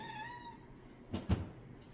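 An overweight house cat meows in a kitchen, asking for food beside an empty dish: a drawn-out, clear meow first, then two short, louder, rougher calls close by, with no talking.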